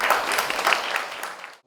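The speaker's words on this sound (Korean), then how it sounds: "발표하느라 수고해주신 청소년들에게 큰 박수 보내주세요" An audience at a youth policy proposal event applauds the young presenters, dense clapping from many hands that fades out toward the end.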